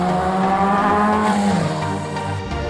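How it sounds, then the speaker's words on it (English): The exhaust of a Kawasaki H2 SX motorcycle gives a steady, buzzy, harmonic drone that swells and dips in pitch for a few seconds, close and fairly loud, with no talking. "just listen to that exhaust"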